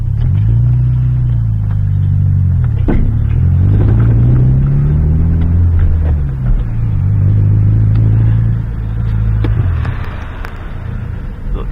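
A Volkswagen runs with its power steering pump going: a loud, close, deep engine rumble that swells and dips a few times, with a faint whine mixed into the drone.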